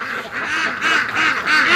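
Ducks quacking, a short run of nasal honking calls close by, several overlapping birds calling in quick succession.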